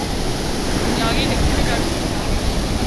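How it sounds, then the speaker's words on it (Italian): Two-metre ocean waves break on a beach in a constant loud roar of surf, with wind buffeting the microphone. "Onde alte 2 metri, signori."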